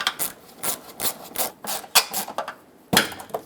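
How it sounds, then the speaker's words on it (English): A screwdriver works two screws into a 1999-2007 Ford F-350 performance headlight housing, a run of short close scraping, rasping turns in an uneven rhythm with a sharper clack near the end. "let's get the two screws back in"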